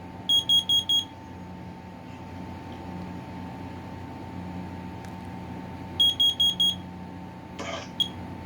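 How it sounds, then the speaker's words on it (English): Kidde KN-COB-DP2 carbon monoxide detector sounding its alarm: two bursts of four sharp, shrill beeps separated by several seconds of quiet room hum, with a small click near the end. "K&COB-DP2 carbon monoxide detector."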